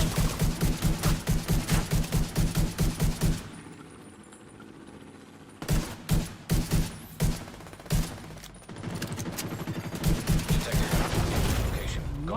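Gunfire in The Division during an Invaded mission: a long rhythmic automatic burst, a quiet pause, then separate heavy shots and a final stretch of firing.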